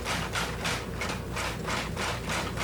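Hand forging of a khopesh blade profile produces a rapid, even series of hammer blows on hot steel, rhythmic and moderately faint, with no voices.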